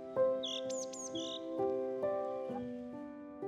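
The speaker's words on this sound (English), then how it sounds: "the forest echoed with the beautiful melodies of other birds" Bright bird chirps and short tweets in a forest, a few quick calls near the start over a sustained tonal musical backdrop, fairly close and light.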